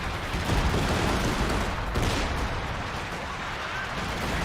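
Dense, continuous roar of artillery and gunfire in the video game Company of Heroes 2, heavy booms and crackling shots blending together loudly without a break.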